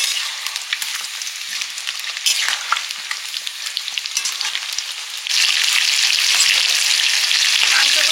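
Chicken meat fries in a pan with a loud, close, continuous sizzle and crackle, stirred now and then, and the hiss swells sharply partway through and stays intense.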